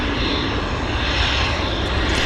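Fixed-wing airplane at Vancouver Airport, a loud steady engine roar close by that holds constant throughout with no talk.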